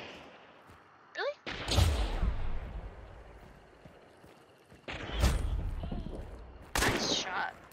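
Gunfire in Hunt: Showdown arrives as three separate loud, booming shotgun-like blasts spaced a few seconds apart, each with a rolling echo that decays slowly, and a faint sharp crack comes just before the first blast.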